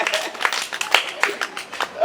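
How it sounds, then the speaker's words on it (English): A classroom of pupils claps for themselves in a quick burst of scattered, uneven handclaps, close and fairly loud, with a voice over it. "Clap for yourself."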